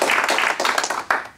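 An audience at a book talk by two historians applauds the speakers with loud, dense, continuous clapping that tapers off at the end.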